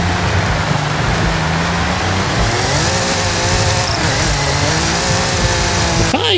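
A 1982 DMC DeLorean on its standard engine in Forza Horizon 5, a loud steady engine drone with harmonic whine rising and shifting as it revs, running alone throughout.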